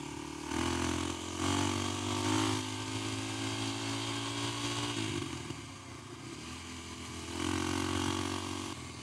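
Kawasaki KLX300 dirt bike with the secondary throttle plate removed, engine revving loud and close in strong surges with a dip into lower idle-like running between, then climbing again.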